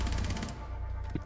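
Rapid automatic gunfire in the tactical shooter Rainbow Six Siege, a fast burst of evenly spaced shots up close that stops abruptly, followed by quieter in-game noise.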